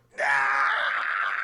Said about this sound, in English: There's a new death scream now.